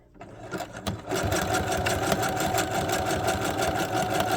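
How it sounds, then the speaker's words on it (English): A sewing machine runs a zigzag stitch on a wig, a rapid, even mechanical whir with a fast pulsing rhythm that starts after a few handling sounds and keeps running close by. "the feet of the sewing machine will keep it together"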